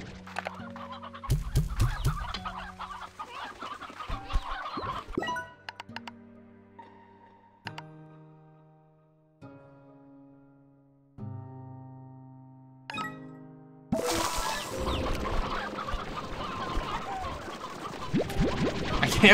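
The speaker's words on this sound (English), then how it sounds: "we have so many chickens around here" Chickens cluck in repeated short bursts in the Slime Rancher 2 video game, close and clear, with pauses between calls and a busier stretch of clucking and rustle toward the end.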